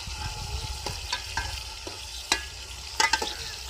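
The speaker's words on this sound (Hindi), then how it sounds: "या अब हम इसके अंदर टमाटर डालते हैं।" Tomatoes going into a pan of chicken and meat for a village-style biryani cooked outdoors, with a steady low sizzle and repeated scraping stirs and clinks of a utensil against the pot, sharper knocks near the end.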